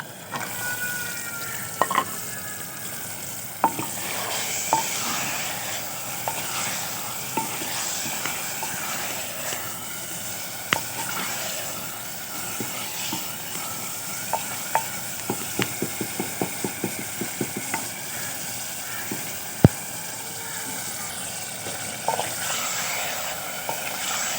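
Chicken frying in a pan in an outdoor village kitchen, a steady sizzle with repeated scraping and clinking as it is stirred, close and continuous with no talk.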